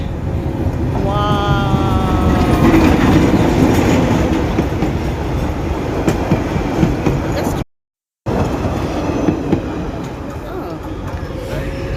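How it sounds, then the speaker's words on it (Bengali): A train rolls past a railway level crossing, its loud, steady rumble and wheel clatter filling the scene close by, with a horn-like tonal sweep early on and a brief dropout midway. "ওই যে ট্রেন আসতেছে।"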